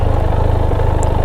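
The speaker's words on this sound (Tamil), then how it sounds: "வண்டி வந்து வார்ம் அப் போட்டுட்டேன் கைஸ். ஐடியலிங் ஓடிட்டுருக்கு." A warmed-up Benelli motorcycle engine idles steadily at a showroom in Coimbatore, a close, loud low-pitched even putter with a rapid regular pulse and no talk over it.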